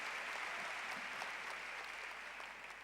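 Conference audience applauding at a church gathering, a steady dense wash of many hands clapping throughout, fairly faint and distant, tapering slightly toward the end with no talk over it.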